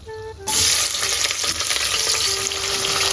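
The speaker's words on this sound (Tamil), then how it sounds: "ஆனியன் போட்டுக்கலாம்" Onions tipped into hot oil already frying fennel, cumin and cardamom for restaurant-style chicken biryani, a sudden loud hiss that erupts after a quiet moment and keeps up as a steady, close sizzle with light stirring.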